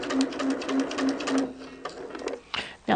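A sewing machine basts straight lines in quick, rhythmic bursts of stitching, running close and steady for over a second, then stopping with a few short restarts and clicks.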